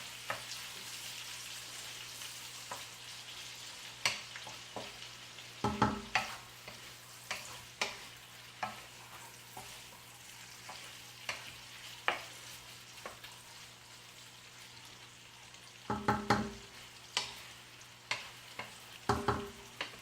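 Butterflied shrimp sizzling steadily in a pan for a shrimp and rice sauté, a low continuous fry with scattered sharp clicks and scrapes of a utensil against the pan, fairly faint overall.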